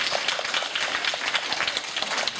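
Students in a university sociology lecture hall give a brief round of applause, a scattered patter of clapping that stays fairly quiet and even throughout.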